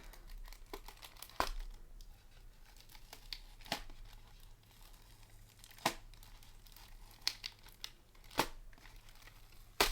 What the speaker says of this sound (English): we're going to have to now unhook the paper, or unhook the tape